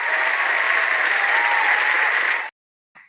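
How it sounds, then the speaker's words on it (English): A round of applause from a group during a writing livestream, a thick, even burst of many hands clapping for about two and a half seconds before stopping abruptly into silence. "We need a round of applause for all of us and all the stuff we're proud of this week."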